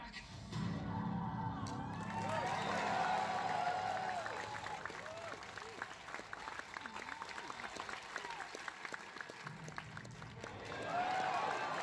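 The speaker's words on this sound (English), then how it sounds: "And the crowd here was really getting into it." Crowd cheering and clapping at E3 2018 while Resident Evil plays on screen, a broad roar of excited voices and applause throughout the hall that swells near the end.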